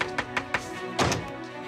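Several quick knocks on a door in a steady rhythm, followed by a heavier thump, close by, against a faint steady background hum.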